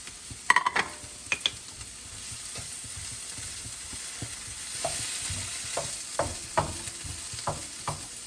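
Tofu, onions and cucumber stir-fry in a pan with a soft, steady sizzle, broken by several sharp scrapes and clinks of a utensil against the pan, a few of them clustered near the start.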